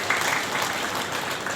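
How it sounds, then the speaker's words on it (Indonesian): Audience clapping at a scout board inauguration in South Sumatra, a continuous, even wash of applause from a crowd, moderately loud and steady throughout. "Tepuk tangan dulu"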